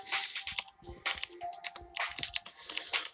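Rapid, uneven bursts of keystrokes on a computer keyboard, close and fairly loud, come in flurries with brief pauses, excited and hurried, with no talking over them.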